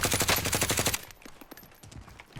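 Rapid automatic gunfire in a shooter video game, a loud burst of evenly spaced shots for about a second, then scattered fainter distant shots.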